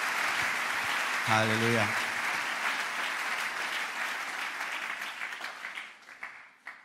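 A church congregation at a Sunday service applauds in a steady, dense wash of clapping that carries on under a loud voice calling out, then fades toward the end.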